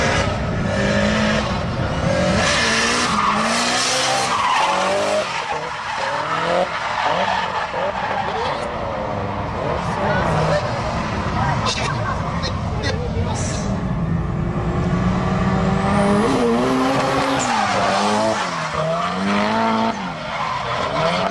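A drifting car roars continuously with screeching, skidding tires at YZ Circuit as the engine revs rise and fall, while a voice talks over it.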